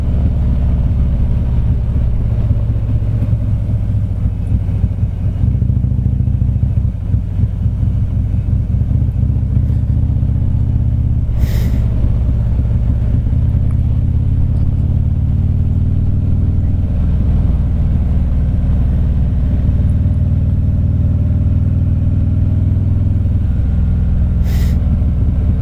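A Harley-Davidson Street Glide cruiser motorcycle rumbles steadily along Macquarie Pass, its low engine drone loud and continuous throughout with no talking.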